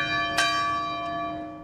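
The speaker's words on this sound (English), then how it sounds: "As the church bells tolled in Uvalde" Church bell tolling in Uvalde, one clear ringing strike with a long sustained hum, followed by a fainter second stroke as the tone decays.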